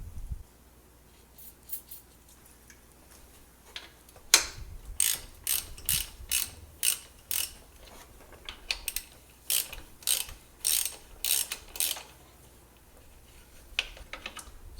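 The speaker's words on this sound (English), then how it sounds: "we need to take our 12mm socket and our ratchet and loosen that first" A ratchet with a 12mm socket loosening a bolt on a Subaru during a drive belt replacement clicks in short repeated bursts of rapid ticks, close and crisp, with brief pauses between strokes in an otherwise quiet space.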